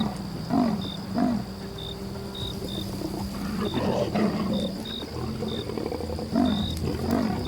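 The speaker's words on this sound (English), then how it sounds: "The leopard lets out a low growl" A leopard lets out a low, sustained growl in the savanna, rumbling steadily beneath a bed of chirping birds and insects, with no voices.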